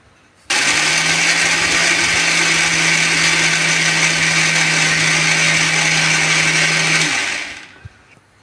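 An electric mixer grinder pulverising dry roasted coconut into powder, with no water added, whirring in one loud continuous burst of about six seconds before spinning down to a stop.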